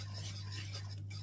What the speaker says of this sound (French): je mélange bien pour avoir une texture bien lisse